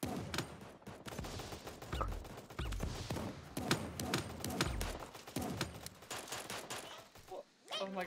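M14 rifle fire in the video game Super Animal Royale, repeated shots spread across the clip amid busy game sounds, with voices talking over it.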